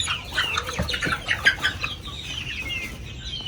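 Chickens cluck and squawk in a poultry house, several birds calling in quick irregular bursts close by over a low background murmur.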